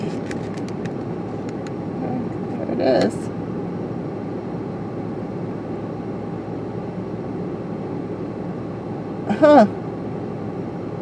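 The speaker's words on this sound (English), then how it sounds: "That is a helicopter." A helicopter near Burr Oak, Pepin and Spring Valley, heard as a steady low droning rumble that continues throughout, with someone briefly speaking twice over it.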